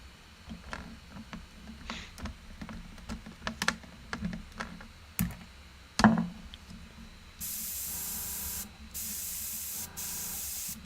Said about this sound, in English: I got a cake icing airbrush I want to see if I can paint with.